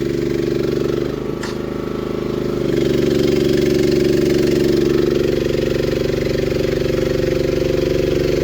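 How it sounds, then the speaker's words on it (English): A small gasoline engine on a manlift runs steadily up close, a loud continuous drone that briefly dips before settling back to a constant idle. "Shut the engine off. That's a little on the loud side."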